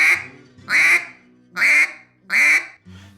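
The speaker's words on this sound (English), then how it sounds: "That gives us 2 slight variations of the basic quack." Four loud, nasal quacks from a duck call in basic quack variations, evenly spaced about a second apart, each held briefly, with a fainter fifth note trailing off.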